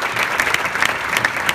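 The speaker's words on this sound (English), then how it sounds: "everyone give them a round of applause for taking the trip out here" An audience claps for visiting parents at a training event, a dense burst of steady applause close by that fills the whole short stretch with no speech over it.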